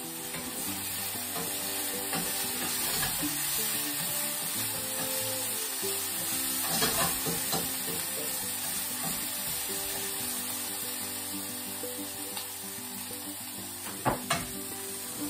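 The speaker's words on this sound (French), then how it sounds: "mes carottes sont un petit peu dorées avec les oignons" Carrots and onions fry in a pan with a low, steady sizzle, dotted with occasional clinks and scrapes of a utensil against the pan, a couple of sharper knocks near the end, and no talking.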